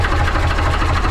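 A Gardner diesel engine on a narrowboat runs steadily, a loud, close, rhythmic low thumping with a busy mechanical clatter and no voices over it.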